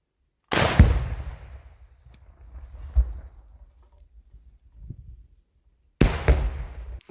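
An RPG-22 round hits soft ground with a sharp blast, then a low rumbling tail fades over several seconds before a second loud explosion bursts after the delay, heard outdoors at some distance.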